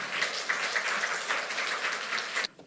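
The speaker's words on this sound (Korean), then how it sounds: "우리 목사님 나오실 때 우리 박수로 환영해 드리겠습니다" A church congregation at a Sunday worship service claps to welcome the pastor, steady crowd applause that cuts off abruptly near the end, with no voices over it.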